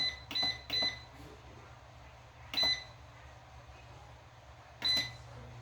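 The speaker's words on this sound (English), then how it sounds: "I'm going to hit the little French fry button. And I'm going to go 7 minutes." Four short electronic appliance beeps as buttons are pressed to set a French fry mode for seven minutes, two quick beeps close together, then two more spaced apart over a low background hum.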